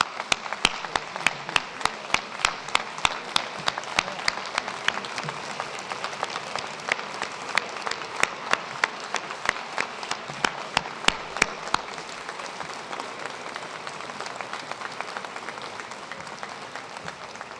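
A standing audience at a 2019 convocation ceremony applauds in a long, even round of clapping, with sharp distinct claps over a dense wash that thins slightly toward the end.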